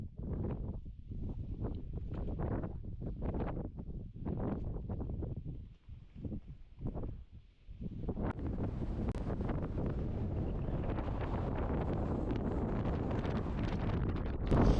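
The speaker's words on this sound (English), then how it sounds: "Way too windy to film by the cairn there" Strong wind on a Lake District fell summit roars and buffets the microphone, with gusty bursts early on, then a steady, heavy rush of air that fills the whole clip.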